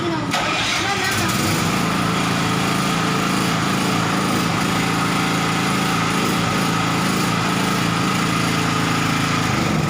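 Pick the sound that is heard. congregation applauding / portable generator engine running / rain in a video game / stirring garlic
portable generator engine running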